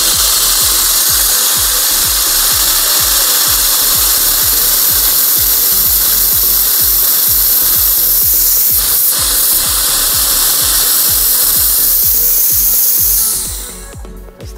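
Pressurized cleaner hissing through a lance into the air conditioning of a Hyundai i30 at about 8 to 10 bar, a loud continuous spray over a rapid rhythmic pump pulse, cutting off near the end.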